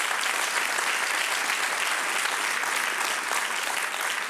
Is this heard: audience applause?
yes